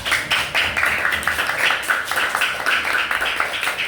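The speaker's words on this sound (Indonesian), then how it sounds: "tepuk tangan untuk kalian semua" A school class claps together at the end of a lesson, a dense, even patter of many hands held at moderate loudness for several seconds, with no talking over it.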